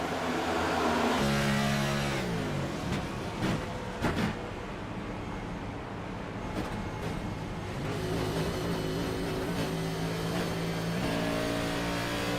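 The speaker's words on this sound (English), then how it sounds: "Let's go on board with Matt and listen. Let's do his throttle trace" A race car engine roars close up, recorded onboard during a race at Darlington, revving and shifting through gears, with the throttle repeatedly easing off and picking back up.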